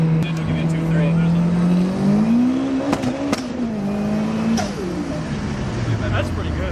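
An 1100 HP BMW drift car engine hums at a steady idle, then rises and falls in pitch as it is revved. People talk over the engine sound.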